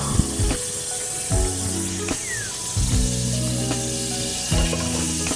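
Onion and garlic sauté in hot cooking oil with a steady, close sizzle for ginataang puso ng saging. Several bursts of clattering stirring punctuate the frying at irregular intervals.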